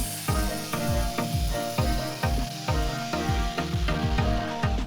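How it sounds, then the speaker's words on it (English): A saw cuts stainless steel exhaust tips for a 1983 Chevy C-10 step side, biting in rapid, rhythmic strokes with a steady, loud, harsh grinding rasp. "I got the saw set at the same angle that the roll pan is, and that's what we're going to cut the tips on"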